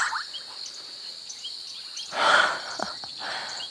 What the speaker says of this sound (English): There are so many frogs. It is so loud in person